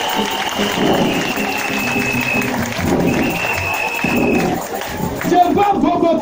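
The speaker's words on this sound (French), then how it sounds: "Est-ce qu'on peut acclamer Bobotine?" An audience at a prophecy and testimony gathering applauds and cheers. A continuous wash of clapping runs throughout, mixed with crowd voices and a speaker talking over it.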